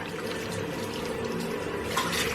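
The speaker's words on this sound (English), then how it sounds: "Try and turn off the water so you don't waste water." Water from a sink tap runs steadily while clothes are washed by hand in the basin, a continuous close splashing flow that holds even and grows slightly louder near the end.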